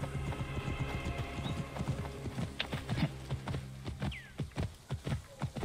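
A horse gallops in Assassin's Creed Origins with a loud, rapid, rhythmic clatter of hoofbeats, close up, with a brief whinny partway through and a low game hum underneath.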